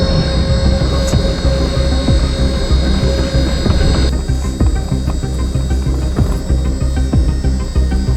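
An electric excavator creeping down a very steep hill gives a steady, loud mechanical hum and whine, with hydraulic and track noise and intermittent low knocks and creaks throughout, and no talking.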